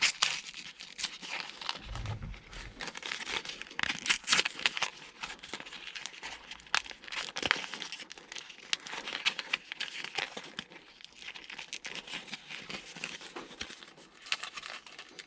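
Plastic packaging for LED interior lights is torn and crinkled open inside a 2019 Nissan Titan XD, giving steady close rustling and crackling with brief ripping bursts throughout.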